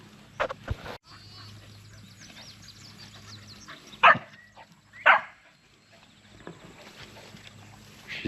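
A dog herding goats on a farm near an electric fence, giving two loud sharp barks a second apart amid quieter rustling and hoof sounds.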